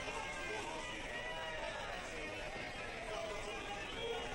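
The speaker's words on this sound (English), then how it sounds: "Crowd is into this one." Crowd at a Russian MMA fight event, a steady broad hubbub of many voices murmuring and cheering, continuous and fairly distant throughout.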